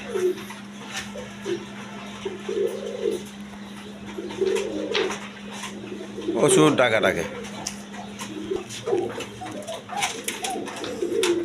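Pigeons coo softly in short repeated phrases among a pair of racing pigeons at a bird sale, with a steady low hum underneath and someone talking throughout.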